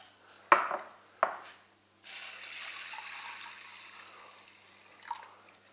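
Water splashes and pours into a pot of dried peas with a steady rushing stream, preceded by a couple of sharp clunks, close by.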